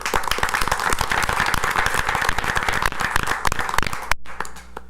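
Audience applause at a city council meeting, a dense steady clapping from many hands lasting several seconds before cutting off abruptly.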